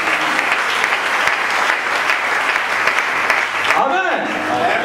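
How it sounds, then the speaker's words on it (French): A church congregation applauds God during a sermon in Cameroon, a dense steady wash of clapping filling the room, with a voice rising briefly near the end. "donnez une belle acclamation pour Dieu d'abord"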